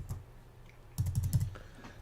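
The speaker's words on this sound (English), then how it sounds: "and then you start typing, typing away" Computer keyboard typing as data is entered into an org-mode table, a quiet opening tap followed by a brief burst of several close, soft keystrokes, then stillness.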